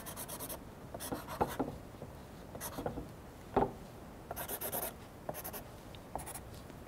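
Pen scribbling loose lines on paper while sketching a flower vase, a run of short close scratchy strokes in bursts with brief pauses between them, no voices.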